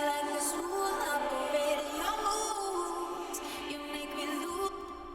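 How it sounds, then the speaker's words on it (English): A reverse reverb effect on a vocal in a slap house track, a smeared, swelling wash of sustained tones that builds and then cuts off abruptly near the end. "and then the reverse vocal effect, which sounds like this"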